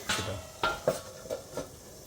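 Factory-style mutton curry is stirred in a kadai, with about five separate scrapes and clinks of a spoon against the metal pan over faint sizzling, close and unhurried.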